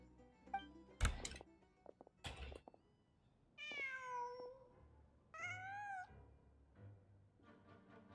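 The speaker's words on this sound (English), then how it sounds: "Just a cat." A cat in Genshin Impact meows in several drawn-out, rising and falling calls, close and clear, with a few soft clicks and thumps between them and no talk.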